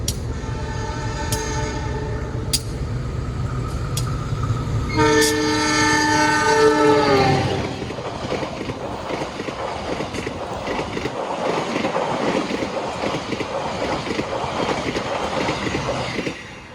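A train rushes at high speed through Baron station, its horn blaring loud and near for a few seconds, then a roaring wash of wheels and rushing air as the cars sweep past and keep rumbling steadily.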